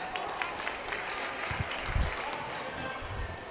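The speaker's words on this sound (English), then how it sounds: "Gets some applause from the Woodbury fans." Woodbury fans applaud at a high school girls basketball game against Minneapolis South, a steady, moderate wash of clapping from the crowd with a few ball bounces underneath.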